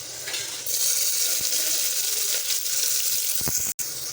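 Onions frying in a pan for Odia buto dal, a steady close sizzle and crackle with a few brief clinks of stirring near the end.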